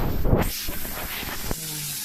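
Pork frying in its own rendered fat, a steady close hiss and crackle of sizzling that runs throughout, with no talk over it.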